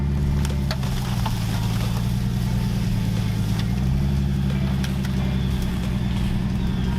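A Jeep XJ engine runs steadily with the transfer case in low range, a close, continuous low rumble with a slight dip and recovery in pitch, without speech.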